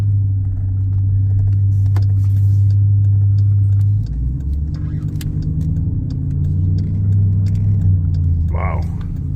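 A Jeep Trackhawk rolls over bumps, its steady low engine and road rumble carrying a few soft knocks and thumps throughout, with a brief voice near the end.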